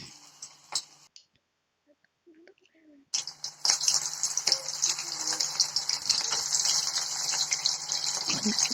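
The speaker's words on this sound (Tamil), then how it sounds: "இப்போ ஊற வச்ச இறாலை ஒன்று ஒன்றா எடுத்து அதில் போடலாம்." Marinated prawns for prawn 65 dropped one by one into a little hot oil, setting off a loud, steady hissing sizzle after a brief quiet pause, with faint clicks and bubbling throughout.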